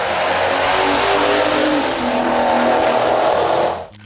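A 1970 Ford Torino Cobra with a 429 Super Cobra Jet V8 roars loudly at full throttle for several seconds, a sustained race-style engine howl with a hint of tire squeal, cutting off sharply at the end.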